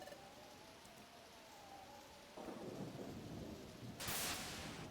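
Thunderstorm in the Pokemon Mystery Dungeon: Explorers of Sky video game: steady rain hiss with a low rumble swelling midway and a brighter crash of thunder near the end, with no speech.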